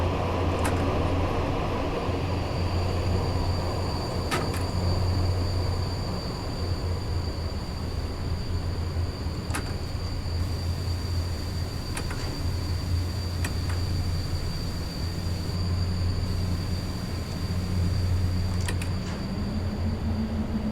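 An EU07 electric locomotive, number EU07 092, runs between Warszawa Zachodnia and Warszawa Grochów in SimRail, with a constant loud rolling drone, a steady high whine and periodic sharp clicks from the rails.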